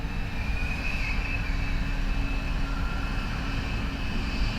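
A KLM airliner comes in to land on runway 28 left at Dublin Airport, a steady roaring jet engine drone with a faint high whine, continuous and fairly loud.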